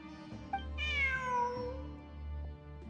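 A cat in Genshin Impact gives a clear, drawn-out meow up close over a steady low game soundscape, with no talking.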